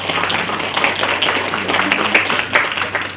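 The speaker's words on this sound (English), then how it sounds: "Let's give her an applause." Audience applause fills a university lecture hall after a speaker's introduction, a steady dense round of clapping from many people, loud and close, continuing for a few seconds.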